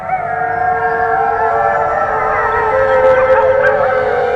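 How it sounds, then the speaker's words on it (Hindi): Daytime jackal howling: several animals wail together in long, rising and falling, overlapping tones, loud and sustained with no break. "दिन में सियार के रोने की आवाज।"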